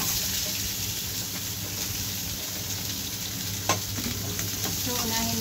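Beef sizzles steadily in a little oil in a pan, with a constant close frying hiss and an occasional light clink of stirring, and no talk.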